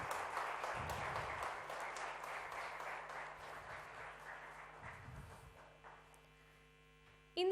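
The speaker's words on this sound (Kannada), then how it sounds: "ಜೋರಾದ ಚಪ್ಪಾಳೆ ಪ್ಲೀಸ್" An audience at a music channel's tenth anniversary event breaks into sustained applause, steady and fairly full, over a constant electrical hum, then fades slightly before a sharp bump at the end.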